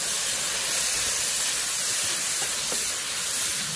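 Spring bamboo shoots stir-fried in a wok with soy sauce, a loud, steady hiss that goes on without a break and has faint scraping under it, with no talk.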